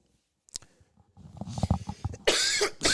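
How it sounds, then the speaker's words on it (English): A person coughs in a short burst, a sharp isolated cough followed by a rougher cluster of hacking coughs that builds to a loud, harsh finish, close to the microphone. "That cough, you cannot shake that cough."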